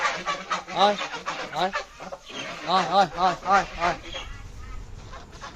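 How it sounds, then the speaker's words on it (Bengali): Geese in a village yard give a run of nasal honking calls in close, overlapping bursts, with a short lull before another cluster and faint yard noise beneath. "বেশ কতগুলো রাজহাঁস আপন মনে গান গেয়ে চলেছে"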